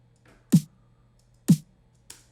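Low-end layer of a big snare sound, heavily EQ'd with light compression and no gate: two deep, punchy drum hits about a second apart, then a softer third hit, each decaying quickly over a faint steady hum.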